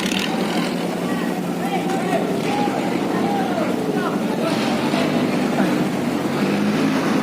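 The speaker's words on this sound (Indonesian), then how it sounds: "Ini perahu-perahu kecil masih lewat di sela-sela kapal yang berlalu lintas." Small boats motor past on a busy river beside a shipyard where a ship is on fire, their steady engine drone continuous and fairly close, with people talking over it.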